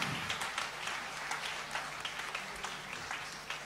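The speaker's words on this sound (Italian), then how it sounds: "Ancora un applauso" Applause from a concert audience for a music duo's performance, steady moderate clapping with distinct individual claps standing out, heard from a little distance.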